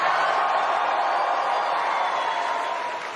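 A large conference crowd of thousands cheers and shouts in a sustained, loud roar. The noise holds steady and then eases slightly at the end.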